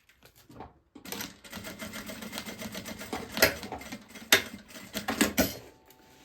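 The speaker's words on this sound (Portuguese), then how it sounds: "Pra reforçar, a gente vai costurar aqui também" Sewing machine stitching a maternity bag, a close rattling motor run in short bursts with needle clatter, starting after a brief pause and pausing between runs, no talking.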